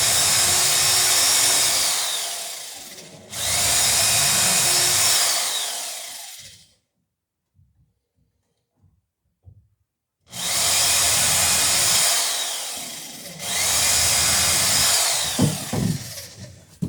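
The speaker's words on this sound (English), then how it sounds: "Before I drill the hole." A power drill bores a hole for a seat in a Chamberlain Alpha dory, loud sustained whining bursts in two pairs separated by a quiet gap with small knocks, ending in scattered clunks.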